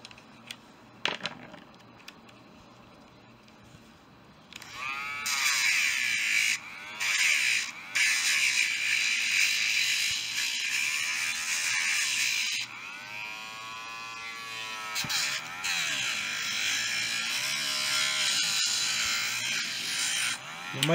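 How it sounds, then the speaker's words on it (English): A Dremel rotary tool files down a Hot Wheels Ford Mustang casting, its high whining buzz starting after a few quiet seconds and running steadily with brief dips as the bit catches and lifts off the metal. "Now, I'm going to take my Dremel and file this down."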